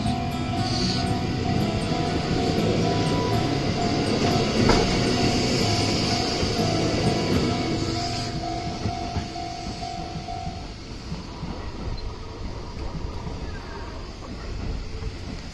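A Japanese commuter train bound for Himeji rumbles steadily alongside a platform at a switchback station with a sustained tonal hum, the noise gradually easing as it moves off; faint voices in the background.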